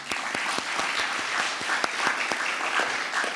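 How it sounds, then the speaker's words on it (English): Round of applause for scholars at a college opportunity fund celebration luncheon, a small audience clapping with distinct, closely spaced hand claps standing out near the microphone, steady throughout. "Let's give them a round of applause."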